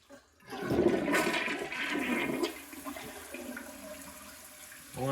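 A 2023 Glacier Bay toilet, partly clogged, flushes with a loud rushing swirl of water that gradually settles into a quieter draining trickle, with a faint refill hiss at the end.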